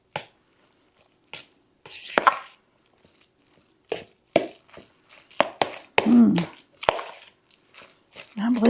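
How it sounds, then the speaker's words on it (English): Ham salad being stirred in a bowl, giving thick, wet squishing and scraping strokes that come in irregular bursts, louder toward the end, with brief quiet gaps between the spoon movements. "I'm going to go in here and stir this one up and see what it looks like"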